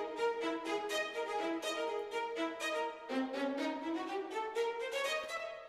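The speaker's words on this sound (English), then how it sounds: "So that's both violin sections playing now." Two layered MIDI violin sections play together in a continuous phrase of rapid repeated notes, bright and steady, with a lower sustained line entering partway and no other sounds.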